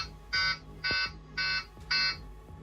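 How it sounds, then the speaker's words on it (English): Inside a Boeing 737 cockpit climbing past 12,000 feet, the takeoff configuration warning horn sounds in four evenly spaced, harsh, buzzing blasts, loud and close with no talking. "a piercing warning horn blasted in the cockpit"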